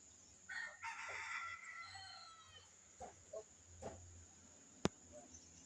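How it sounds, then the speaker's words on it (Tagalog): A red junglefowl rooster crows faintly at dawn, a single drawn-out call followed by a few short clucking notes and a sharp click, heard at a distance in quiet open surroundings. "merong manok na labuyo na lumapit sa aking pangati na talisayin."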